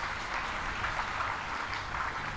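A seated audience at a Hindi religious discourse gives a brief, steady round of moderately loud clapping with no pauses or speech.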